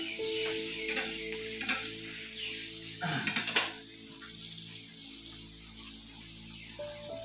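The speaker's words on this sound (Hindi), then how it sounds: "the process is shearing" Chicken sears in a hot pan for chicken cordon bleu, a loud steady sizzle close by with a few brief clatters and scrapes of the pan, no voices.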